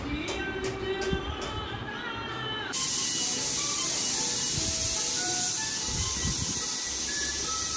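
A pressure cooker whistle in a home kitchen bursts into a loud, continuous hissing steam jet that holds steadily for several seconds, coming in over quieter background music and household sounds.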